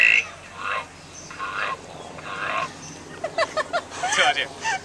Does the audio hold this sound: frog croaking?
yes